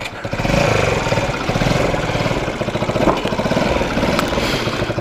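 A Rex RS 700 scooter's small motor idles steadily nearby, a continuous low putter with a slight uneven chug and no voices.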